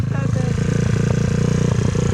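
A motocross bike's engine throbs in a rapid, steady pulsing idle-to-rev rhythm, close and loud, on a rainy dirt hillclimb.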